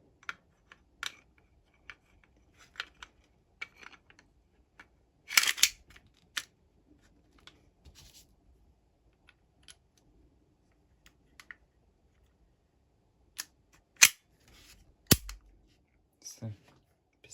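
Small plastic and metal parts of a toy pistol snap, click and rattle together in scattered bursts, with a sharper cluster around the middle and a few crisp clicks near the end, close and fairly quiet.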